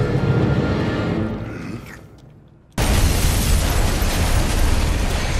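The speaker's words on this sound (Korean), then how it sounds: "바로 수류탄 한 방 먹여주게 되죠." A grenade goes off in a zombie film: tense ambience fades to near silence, then a sudden loud blast erupts and its dense roar fills the rest, staying heavy and sustained.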